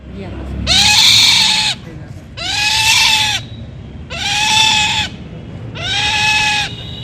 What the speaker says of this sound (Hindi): शायद बचाया गया पक्षी धीमे पकड़ो और जाने दो चिल्ला रहा था